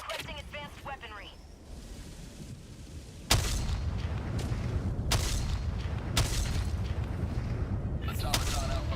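An orbital strike in a video game lands as a series of heavy, booming explosions, three or four sharp blasts in quick succession over a rumbling bed, after a quieter stretch with brief game chatter.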